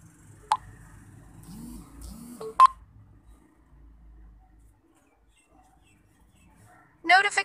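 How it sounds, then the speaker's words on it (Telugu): A WhatsApp message notification on a phone sounds as a few short, bright electronic tones, clear and close against a quiet room with faint background noise. "మెసేజ్ చేయగానే నాకు వచ్చే నోటిఫికేషన్ మీరే వినండి"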